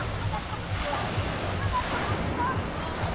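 Waves wash onto the beach at Jebudo Island, South Korea, a continuous broad surf roar mixed with gusty wind buffeting the microphone, with faint voices in the background.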